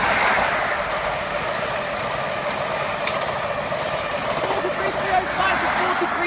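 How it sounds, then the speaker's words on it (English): A Class 43 HST, power car 43305, runs straight through on the main line at Doncaster, its steady, loud rumble and rail noise holding close throughout while a voice talks over it. "passing straight through the main line at Doncaster is"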